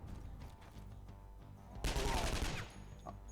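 A sniper rifle fires in the video game SkyShine's Bedlam: one sudden loud blast with a short crackling tail partway through, over quiet game ambience.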